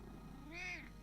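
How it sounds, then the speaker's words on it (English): A single short, rising-and-falling cat meow, close and fairly soft, over a low steady background hum. "He's just like meowing at me."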